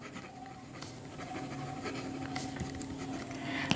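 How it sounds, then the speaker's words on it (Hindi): Pen or pencil writing out Heron's formula for a triangle's area, a soft continuous scratching across paper with a few brief louder strokes near the end, close and steady with no talk. "यहाँ पे मैं लिखती हूँ बाय हीरोन्स फॉर्मूला।"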